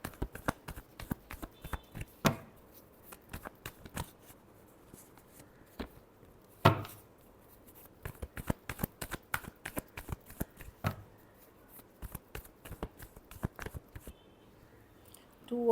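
Tarot cards being shuffled by hand, a long run of quick, crisp riffling flicks and soft slaps with a few louder snaps, close and alone with no talking.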